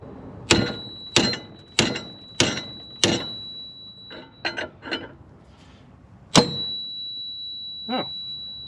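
Heavy hammer blows ring off a Jeep axle brake drum during removal: five loud, evenly spaced metallic strikes, then a cluster of lighter taps and one final clanging hit with a long ringing tail.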